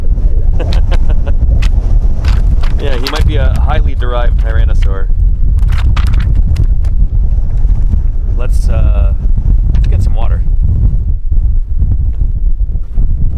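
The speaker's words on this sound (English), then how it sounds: "As you can tell, it's pretty windy today." Strong gusts buffet the microphone at a dinosaur dig site in southern Wyoming, a loud continuous rumbling roar under people talking nearby.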